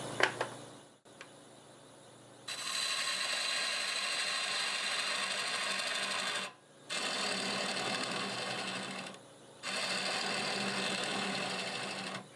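A wood lathe spins at about 700 RPM as a half-inch bowl gouge hollows a maple burl. A loud, steady cutting whir comes in three long passes, with brief quieter gaps between them and a softer hum at the start.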